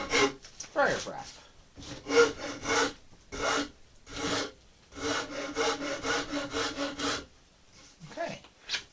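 A Friar's Rasp files a carved wooden boat half hull model in a rhythmic series of close, dry rasping strokes, each a short burst with brief pauses between.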